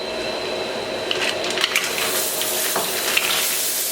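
Mussels sizzling on a hot plancha, a loud, steady frying hiss with occasional clicks and pops of shells shifting on the metal, close up and continuous, no talk.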